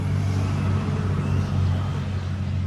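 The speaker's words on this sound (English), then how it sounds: "car come by, it was really super loud" A loud, steady engine rumble of a car passing close by at an RC raceway, low and sustained for the whole stretch with no talking.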